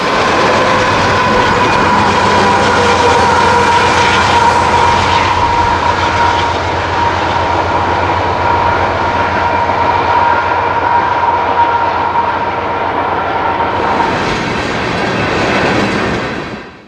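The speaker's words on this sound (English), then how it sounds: "575 takes the siding to meet a southbound train, mixed freight 474, already waiting on the main" Mixed freight train rolling along the main line at Letts outside Muscatine, a loud, sustained rumble and rail roar with faint clickety-clack, holding steady before fading out abruptly at the end.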